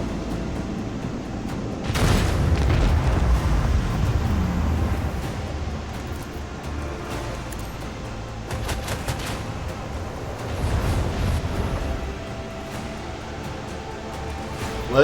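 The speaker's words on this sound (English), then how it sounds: "our torpedoes will take this ship out" Torpedoes striking a ship in the video game Rogue Trader: heavy booming impacts rise out of a dense, continuous rumble of battle noise, with one strong hit early on and another swell later.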